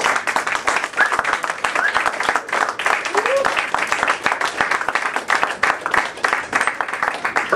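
Audience applause for the performer Folk Flight 69 at a live show, dense steady clapping lasting throughout, with crowd voices and cheers mixed under it.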